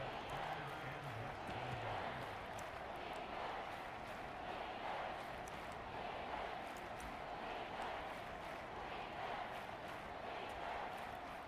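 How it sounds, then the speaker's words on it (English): Steady stadium crowd roar from a Madden NFL 24 football game late in the fourth quarter, a dense continuous wash of distant noise at low level without distinct cheers. "this crowd trying to force a false start here"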